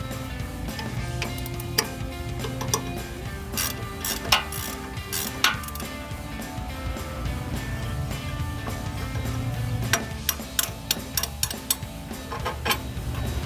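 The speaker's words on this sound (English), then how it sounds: "we are going to remove this 18mm bolt and this 18mm bolt up front" Ratchet working an 18mm front control arm bolt loose on a Jeep Wrangler JK, giving rapid close metallic clicking in bursts, with clanks and a run of sharper ticks near the end.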